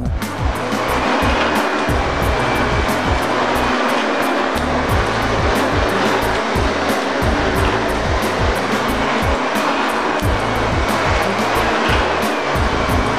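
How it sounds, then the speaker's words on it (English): A Shark Navigator vacuum cleaner runs steadily and loudly close by, a continuous motor whine with airflow rush and no pauses, and no one speaks over it. "just vacuum in that area"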